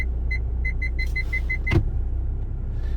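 A truck drives with a steady low engine rumble inside the cab, while a series of evenly spaced electronic beeps sounds, followed by a single sharp thump.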